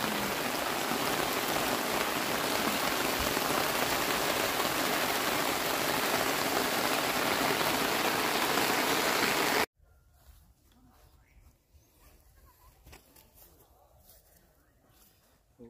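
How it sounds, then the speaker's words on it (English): Heavy rain pours onto a sandbank campsite during a stormy night, a loud dense hiss for most of the stretch before it cuts suddenly to a much quieter scene of scattered drips and faint rustling. "It's rainy day, pero enjoy,"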